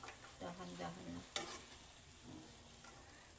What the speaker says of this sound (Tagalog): halo-haloin natin ng dalawang dahan-dahan na